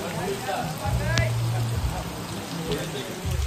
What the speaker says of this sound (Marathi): मागे बघा किती छान एकदम पाऊस पडतोय